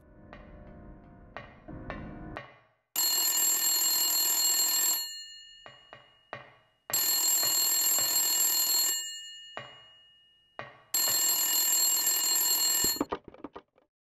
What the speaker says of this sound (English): greeted by the haunting sound of a phone ringing